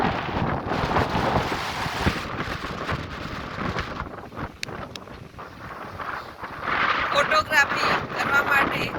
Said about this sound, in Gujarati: એટલો જબરજસ્ત પવન આવી રહ્યો છે